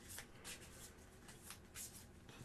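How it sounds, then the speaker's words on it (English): Soft, papery riffling of cards being shuffled, in a few quick bursts close by and fairly quiet. "I shuffle."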